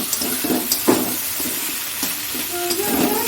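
Chicken sizzles as it is stir-fried with a little sugar in a pan, with soft scraping stirs and bursts of hiss over a short stretch.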